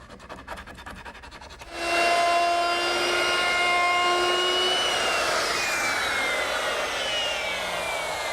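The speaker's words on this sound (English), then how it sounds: "Using the same 1/4-inch round over bit that I used earlier to ease the edges on the foot" A router fitted with a 1/4-inch round over bit edges a piece of wood; the motor spins up abruptly into a loud, steady whine with falling tones as it cuts, after a brief quieter stretch.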